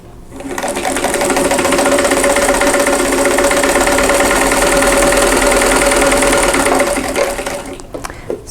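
A sewing machine chain pieces quilt half-square triangles, running as one long, loud, steady mechanical whir that starts up, holds for about seven seconds and then slows to a stop, close by and without speech.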